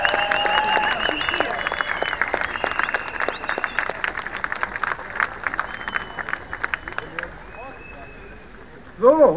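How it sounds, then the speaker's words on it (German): An outdoor demonstration crowd at the Brandenburg Gate in Berlin applauds the police, loud sustained clapping with cheers and shouts that gradually thins out, voices rising again at the end. "Echt mal einen fetten Applaus für die Polizei, bitte!"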